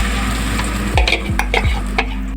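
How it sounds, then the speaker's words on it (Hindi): Blended tomatoes hit golden brown onions frying in a pan, giving a loud, steady sizzle, while a spoon scrapes and stirs in several distinct strokes. "अब मैं इसमें जो टमाटोज़ हमने ब्लेंड करके रखे हैं वो सारे मैं इसमें ऐड करूँगी।"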